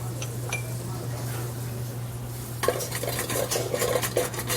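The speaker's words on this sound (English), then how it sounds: "starting in a saucepan over medium heat, we're going to add about 4 tablespoons of butter." Butter goes into a saucepan over medium heat, with a steady low hum under light scraping and soft clinks of a utensil against the pan that grow busier partway through.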